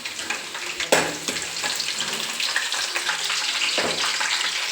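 Ginger, garlic and green chillies sizzle steadily in hot oil in a pan, with a sharp spattering burst as they drop in near the start, then a continuous close frying hiss throughout, with no talking.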